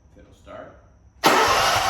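A lawn mower engine that bogs down when the blades engage cranks briefly and then catches, firing into a loud, steady run close by after a faint voice beforehand.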